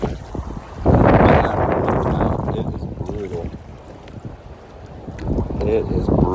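Strong wind buffets a kayak on a choppy lake, roaring across the microphone in gusts with water slapping against the hull, loudest near the start and again toward the end.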